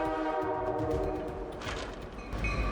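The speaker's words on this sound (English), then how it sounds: "the train rushes forward, plowing through the thick white snow on both sides of the tracks" A train pushing through thick snow along the tracks, a loud continuous rumble and roar with a sustained horn tone held throughout, heavy and close.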